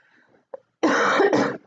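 A short, sharp cough from someone with a cold, followed by a harsher throat-clearing cough, close and loud after near silence.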